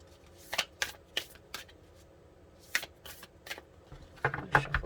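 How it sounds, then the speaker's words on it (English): Tarot cards being shuffled at close range, several crisp riffling bursts separated by short pauses, the last few quicker and louder. "Shuffle this one more time."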